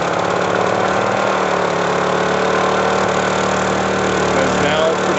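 A Honda generator runs on JP-8 fuel, its small engine chugging loudly and steadily nearby with a slight knocking edge and no speech over it.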